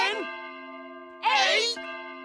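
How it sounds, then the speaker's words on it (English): Cartoon clock chiming the hour with bright, sustained bell-like ding tones that ring out and overlap, one strike fading before a second, louder chime rises; clear and close with no talk. "The clock makes sounds when it chimes the hour."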